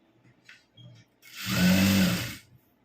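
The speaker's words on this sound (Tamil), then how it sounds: "1 இன்ச்சு விட்டு நான் தையல் போடுறேன்." Sewing machine stitching a pant seam in a beginner's gathering-pant tailoring session, a single steady motor run of about a second close by, preceded by a few faint handling clicks.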